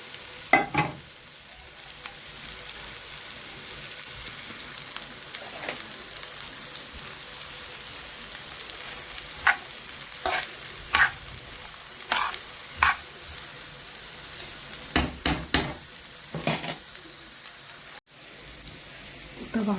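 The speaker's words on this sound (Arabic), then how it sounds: "وبعد ما تقدح نروح جايين حاطين بقى ايه البصل" Onions frying in a pan, a soft steady sizzle with scattered sharp stirring scrapes and clicks, several clustered near the end.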